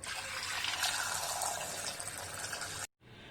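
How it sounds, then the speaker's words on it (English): Cold water is poured over boiled quail eggs in a kitchen, a loud, steady gushing pour that runs for about three seconds before cutting off abruptly into quieter running water. "Next we need to strain the water out from the eggs, and we need to add cold water."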